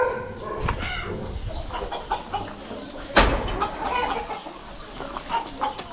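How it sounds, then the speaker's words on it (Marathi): Free-ranging village chickens on a poultry farm cluck over and over close by, with scattered short calls and one sharper squawk midway; no talking. "कोंबड्या बघा अशा फिरतात इथे मस्तपैकी"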